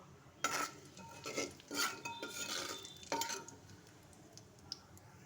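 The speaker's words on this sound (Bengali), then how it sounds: "ফোড়নটা দিয়ে ভালো করে নাড়াচাড়া করে নিতে হবে।" A utensil stirs a tempering of whole cumin, one dried red chilli and a bay leaf in a clay pot over a gas flame, giving several bright scraping and clinking strokes in a cluster, then quieter.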